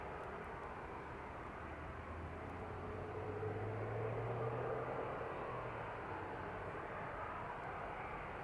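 West Atlantic cargo aircraft taxiing at East Midlands Airport, a faint distant engine drone with a low hum that swells and fades under a steady broad outdoor rush.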